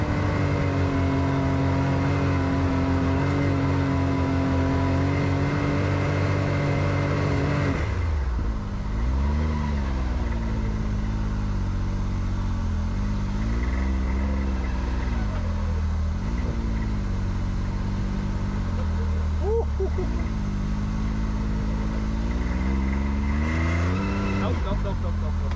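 An off-road vehicle's engine drones and repeatedly revs up and down as it drives through melting snow on the Rubicon Trail, loud and close, with muffled voices in the background.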